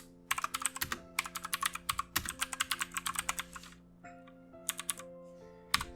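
Rapid clicks of typing on a computer keyboard while writing a script, several quick bursts of close, crisp keystrokes with short pauses between, over a faint steady hum.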